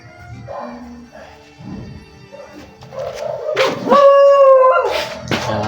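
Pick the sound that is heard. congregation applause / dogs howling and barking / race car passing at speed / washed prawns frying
dogs howling and barking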